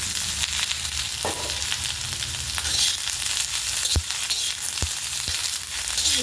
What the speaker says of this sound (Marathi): सारखा कांदा भाजायचा आहे ना भाजीला कलर चांगला येतो